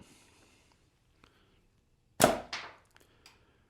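A slingshot fitted with thin Tritium latex bands, shot at short draw, lets off one sharp snapping crack with a quick second impact just after. The shot is fairly close and stands out against quiet surroundings.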